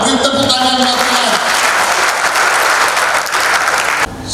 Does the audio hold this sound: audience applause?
yes